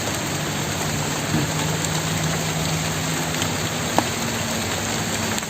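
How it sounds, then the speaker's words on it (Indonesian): Heavy rain pours down beside a river in a dense, continuous wash of hiss and patter that stays loud and even throughout, with a single brief knock near the end. "Ini hujannya semakin besar"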